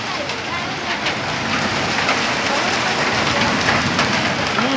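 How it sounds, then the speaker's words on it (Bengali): Heavy hailstorm pelting down, a dense, loud, unbroken roar of hard drops drumming on surfaces close by. "ভয়ানক শিলা বৃষ্টি,"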